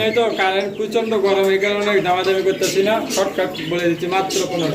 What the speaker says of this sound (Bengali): এখানে আরো একজোড়া কবুতর আছে